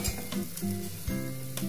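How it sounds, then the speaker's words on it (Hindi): Spices sizzle and fry in a pan as the base for a black chickpea curry, a steady close crackle with a few stirring scrapes, no talking. "तो यहाँ हमारे मसाले बहुत अच्छे से फ्राई हो गए, ये देखिए।"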